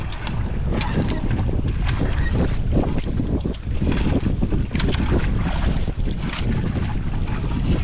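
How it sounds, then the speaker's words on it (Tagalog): Strong wind buffets the microphone in a steady, loud roar over open water, with gusty rumbling and no voices. "Lakas ng hangin."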